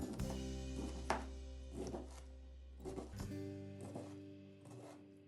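A knife cuts through a cucumber on a board. A few soft, separate cutting thunks land about a second apart, faint and close, over a steady low hum.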